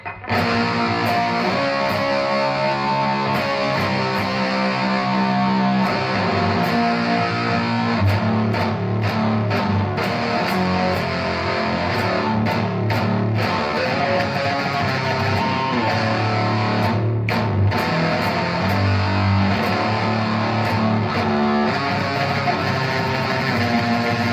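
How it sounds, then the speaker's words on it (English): A Behringer HM300 distortion pedal on electric guitar plays continuously, thick and saturated with a buzzing, noisy edge, loud and sustained throughout. "But I'm going to turn up the distortion, bring my level down here so I don't blow you out."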